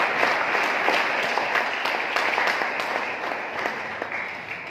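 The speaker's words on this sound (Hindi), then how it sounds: "एक बार शक्ति सर के लिए तालियां बजाएं।" A seminar audience applauds a speaker with steady, sustained clapping that is fairly even and moderately distant, holding for several seconds.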